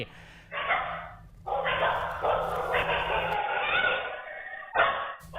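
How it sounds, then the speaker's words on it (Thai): Dogs bark in a residential neighbourhood, caught by a CCTV camera: repeated yapping bursts at moderate distance, continuing through most of the stretch with brief pauses. "หมา ในชุมชนมันเริ่มเห่าไล่"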